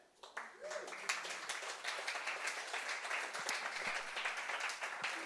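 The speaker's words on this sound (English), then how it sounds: "Please, an applause for her." An audience at an arts talk applauds a guest speaker as she is introduced, a faint but continuous wash of many hands clapping that swells after a soft start and carries on steadily.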